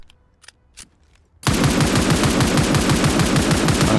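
Rapid automatic SMG fire in the video game Zero Hour bursts in after a few faint clicks and then rattles loud and continuous as a fast, even stream of shots.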